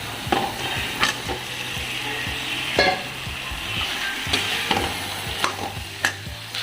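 Pumpkin pieces fry with spices in a pan, stirred with a spatula that scrapes and knocks against the metal in repeated strokes over a steady close sizzle.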